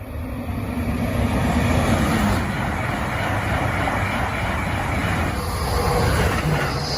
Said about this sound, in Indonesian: keluarlah kereta cepat